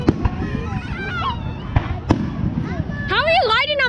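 Fireworks at a permitted 2021 display burst in several sharp, loud bangs with crackling, and a rising whistle near the end, while people nearby talk over the show.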